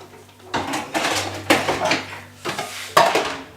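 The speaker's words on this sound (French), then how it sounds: "Tu peux vider la vaisselle?" Dishes and cutlery clatter and clink in a series of close, sharp knocks as they are unloaded, with brief pauses between handfuls.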